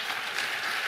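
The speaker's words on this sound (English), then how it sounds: "give the big round of applause to our great panelists" Audience at the AIPF opening ceremony and plenary session applauds its panelists, a dense, steady wash of clapping that holds even for a brief moment with no voices over it.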